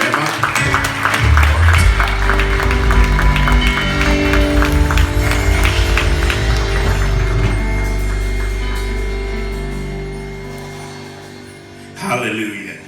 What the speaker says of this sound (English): So I want you to give the Lord a clap offering for Pastor Bruce and Sister Eva.